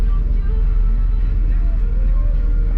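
Cabin of a KPB intercity bus travelling on the highway toward Larkin in Johor, a loud constant low engine and road rumble droning steadily throughout.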